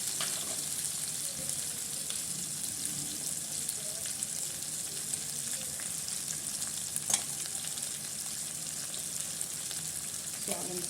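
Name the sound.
pumpkin sabji frying and being stirred in pan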